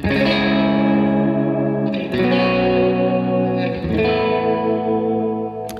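Electric guitar chords ring out with crunchy overdrive and spacious reverb, struck three times and left to sustain and decay between strums.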